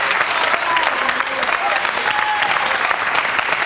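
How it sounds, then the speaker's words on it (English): A crowd at a World Pool match in 2000 breaks into loud, sustained applause and cheers for Jimmy White, with a dense wash of clapping and whistles throughout. "The crowd's getting excited."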